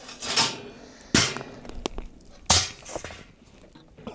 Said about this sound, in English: So let's take this grate off.